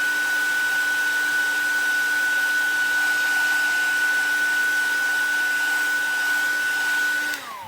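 Hair dryer held close to stamped metal to dry StazOn pigment ink, a steady loud whirring blow with a constant whine that runs unbroken for several seconds before switching off.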